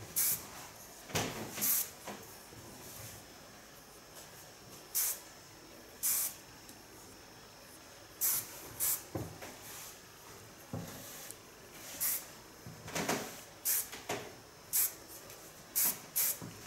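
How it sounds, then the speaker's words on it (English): Short bursts of aerosol spray hiss at irregular intervals, quiet overall, with brief pauses between each spritz. "First hairspray I'm going to use is a designer spray."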